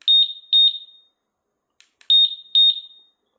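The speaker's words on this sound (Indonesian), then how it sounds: "untuk answer back pasti akan mengaktifkan alarm juga ya, karena tombolnya sama" Keyless alarm on a Vario 125 motorcycle fitted with a PCX 160 keyless system chirps its answer-back: two quick pairs of loud, piercing electronic beeps, a short pause with faint clicks, then two more pairs.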